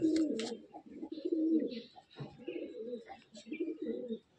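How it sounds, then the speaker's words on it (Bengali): A male Andhra Phulshira pigeon in a loft coos close by in repeated low, throaty bursts, with brief pauses and faint higher chirps between them. "এই পায়রাটা হচ্ছে অন্ধ্রা ফুলশিরা।"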